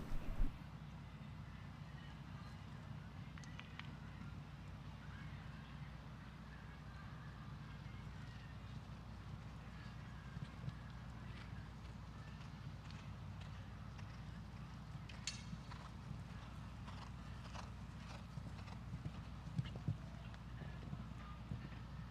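Horse hoofbeats during a show jumping round in a modified Grand Prix class, with faint, regular clip-clop strides over a constant low arena background.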